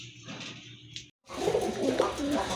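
Pigeons coo at a pigeon sale, a close, steady murmur of cooing that drops out briefly and then returns fuller and louder.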